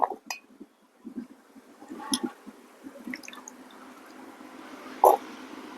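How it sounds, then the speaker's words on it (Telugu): Pieces of elephant yam are washed and lifted out of water, giving sparse close drips, splashes and light clinks of a vessel, with quiet gaps between them and a sharper clink near the end. "ఇప్పుడు శుభ్రంగా కడుక్కున్నాక తీసేసుకోవాలి।"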